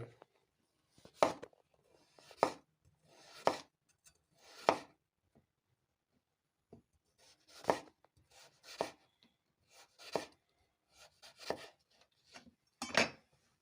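A kitchen knife slices a potato crosswise into thin 2–3 mm rounds on a cutting board, about ten crisp separate chops with irregular pauses, close and alone.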